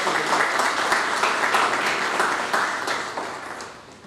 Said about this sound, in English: they need a big round of applause from all of us